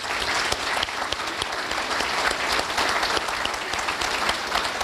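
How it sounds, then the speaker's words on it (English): Steady round of audience applause at a ribbon-cutting ceremony for a $500 million building, honoring leadership and contractors; dense, continuous clapping from a large crowd, fairly near and sustained throughout. "I think they deserve another round of applause."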